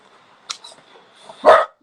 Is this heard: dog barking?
yes